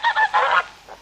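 White geese honk close by in a quick series of loud, nasal calls, three strong honks and then a fainter one trailing off, with no talk.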